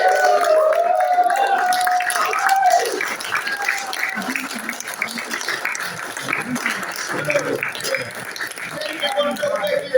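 Audience applause at a California GOP gubernatorial primary debate meeting, loud and dense at first, then thinning into scattered clapping and murmuring voices.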